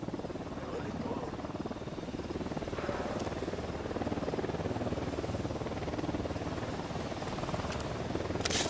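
Helicopter in the video game Ghost Recon Wildlands: a steady, fairly loud rotor drone with a throbbing texture runs unbroken for the whole stretch, with no clear speech over it.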